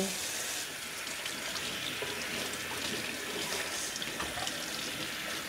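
Running tap water pours steadily over freshly harvested giant purple lettuce as it is washed in a home garden kitchen in Australia. The rush is continuous and fairly loud throughout, with no pauses and no voices.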